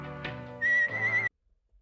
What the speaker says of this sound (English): And so we get a whistled version of the OP.